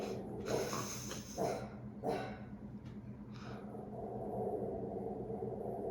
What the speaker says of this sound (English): Someone walked by with a dog.